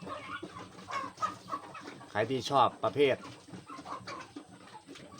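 Thai chickens cluck repeatedly and close by in short, uneven bursts, mixed in with someone talking.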